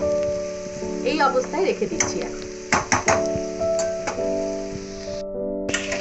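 Potatoes and onions frying in a pan for a Spanish omelette, with a steady sizzle broken by spoon stirring and scraping clatter, while someone speaks briefly over the cooking.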